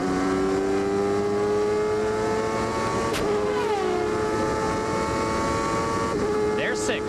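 CART race car engines drone at Elkhart Lake in 1995, a steady high-pitched whine from several cars that shifts pitch as they brake and change gear through a corner, with commentary continuing underneath.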